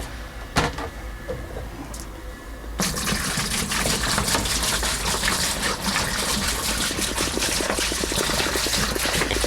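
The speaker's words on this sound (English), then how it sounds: "we're just going to dump this whole thing in the fermenter" Star San sanitizing solution gushes steadily into a home brew fermenter for an IPA, a loud continuous pour of liquid starting after a few faint knocks and clatters.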